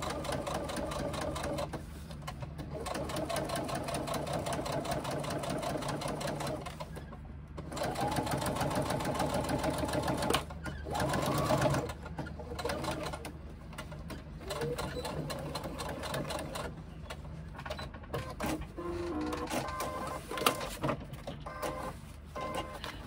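A sewing machine top-stitching a pocket piece runs in long, steady bursts of fast mechanical stitching up close, separated by short pauses, with faint talking underneath.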